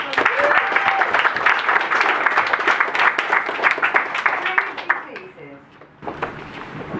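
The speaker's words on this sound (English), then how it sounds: "I think a round of applause, ladies and gentlemen." A wedding crowd applauds loudly and steadily for about five seconds, then the clapping thins out and fades, with a few voices heard faintly near the end.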